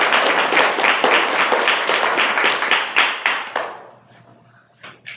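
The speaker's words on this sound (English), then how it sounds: "So why don't we give Professor Hansford a round of applause." An audience at a Black Law Students Association panel on judicial activism applauds a professor, with steady, dense clapping for about three and a half seconds before it thins out and fades.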